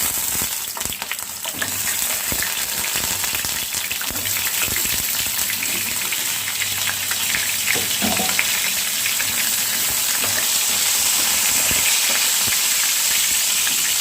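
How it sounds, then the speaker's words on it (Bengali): Pieces of pointed gourd fry in hot oil on a low flame, making a continuous, even sizzle with occasional sharper crackles and light stirring, close and steady throughout. "এবার পটলগুলো দিয়ে আমি 3-4 মিনিট ভাজা করে নেব। এটা একটু লো ফ্লেমে।"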